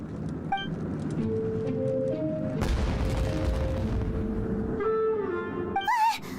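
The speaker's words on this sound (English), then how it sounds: "It sounded like fireworks." A firework explosion in the video game Genshin Impact: a broad, booming blast with a rumbling tail, heard over a game music tone, followed by a rising whistling effect.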